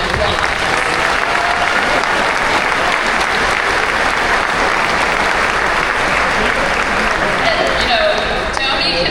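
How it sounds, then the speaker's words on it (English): Sustained, dense applause from a school audience at a fall meet-the-teams night, steady and loud throughout with crowd noise mixed in. "So he deserves a huge round of applause."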